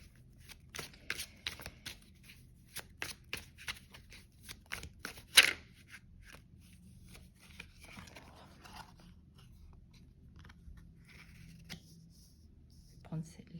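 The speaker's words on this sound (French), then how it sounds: "Je vais tirer 3 cartes." Cards for a card reading are shuffled and drawn close by, with a run of soft, quick riffles and flicks, one sharper snap, then quieter sliding and handling.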